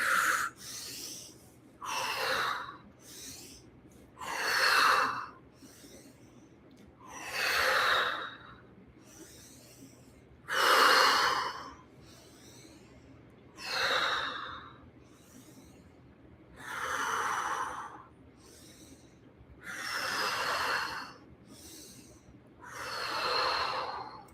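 Slow, deep breaths repeat in a steady rhythm during a guided breathing exercise, each airy inhale or exhale swelling and fading, close and clear with quiet pauses between.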